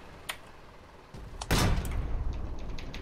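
A stuck door in the war game Foxhole rattles and thuds with a couple of faint knocks, then a loud heavy bang and a rumbling clatter that carries on for a second or two. No voices are heard.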